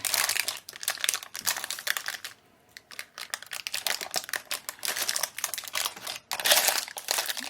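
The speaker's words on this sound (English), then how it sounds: "Parchment paper is noisy." Parchment paper crinkles and crackles loudly up close in irregular bursts, with a brief pause near the start before the rustling resumes.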